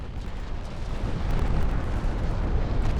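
Naval artillery gunfire from warships in the Ultimate Admiral Dreadnoughts game, heard as a dense, continuous rumble of booming shots that holds loud and steady throughout, with no talking.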